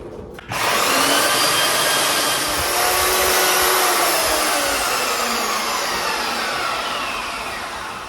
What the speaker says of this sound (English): they always come a little bit rough, dirty, so I'm going to sand it down